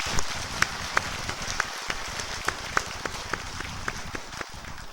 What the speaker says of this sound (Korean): 우리 그분들 위해서 우리 박수 한번 위로의 박수 한번 하시죠.